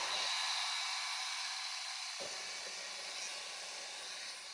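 A heat gun warms the chrome hatch trim on a Hyundai Palisade, giving a steady close airy hiss and blower whine that holds at an even level, with a brief lower hum dropping out partway.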